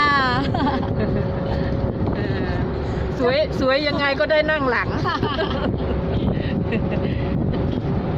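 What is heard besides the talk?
wind blowing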